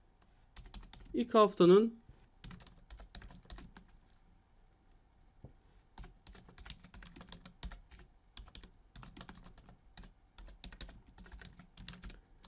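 Clicks of typing on a computer keyboard, soft and close. The keys come in short bursts with gaps between them. A voice speaks briefly near the start.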